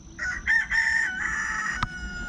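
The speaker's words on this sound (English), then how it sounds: "Fan favorite roosters over there are not shutting up as usual." Roosters crow near an RC flying field, giving one clear, long, wavering call with a short sharp sound near its end. The crow comes through a steady low background hum.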